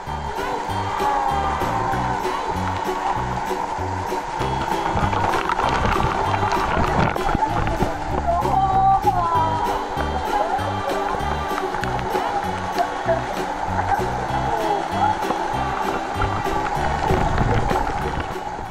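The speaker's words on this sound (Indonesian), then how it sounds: "Di sini ternyata ada air terjun loh, gengs" Water pours steadily from a small artificial waterfall into a water park pool beside a semi-Olympic pool, set against fake rockwork, making a constant dense rushing roar with faint tonal sounds running through it.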